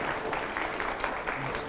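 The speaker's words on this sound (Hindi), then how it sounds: "बच्चे ताली बजा रहे हैं" Children clap at a political event with a national audience, producing a steady patter of many hands in even bursts, fairly loud and continuous, with voices murmuring underneath.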